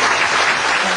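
An audience at a Cape Air event in southeastern Massachusetts claps in a dense, loud burst of applause, close and continuous with no voices.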